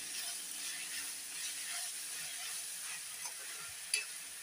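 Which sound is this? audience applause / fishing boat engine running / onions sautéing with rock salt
onions sautéing with rock salt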